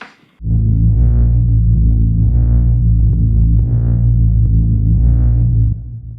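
A heavy, droning drum and bass synth sustains loudly, washed in thick reverb, with a slow pulsing swell that repeats several times before fading slightly.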